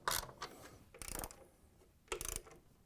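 A ratchet tightening 13mm bolts that secure the rear counterweight on a Whirlpool/KitchenAid/Maytag washer, three short bursts of fast clicking separated by pauses, close and fairly quiet.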